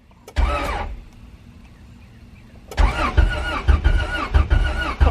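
A Honda CRX engine cranks in two bursts of loud, rhythmic starter churning, the first brief and the second longer with pulsing uneven beats, separated by a quiet pause.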